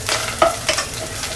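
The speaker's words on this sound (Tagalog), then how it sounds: "Unahin ko tong ating bawang. Masarap to guys, tostahin natin." Garlic toasting in a little oil in a pan for ginisang patola, giving a steady, close crackling sizzle with a few stirring scrapes and no voices.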